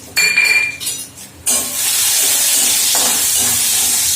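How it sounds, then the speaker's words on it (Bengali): Coconut shavings dropped into hot oil already tempered with cumin, cardamom and a dried chili, a few clinks of metal utensils first, then a sudden loud sizzle that holds as a steady close hiss. "নারকেলের কুচিগুলো ভাজাবো"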